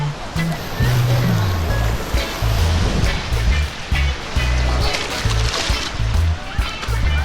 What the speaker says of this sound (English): The waves are actually a little bit stronger than I thought. It almost knocked me over.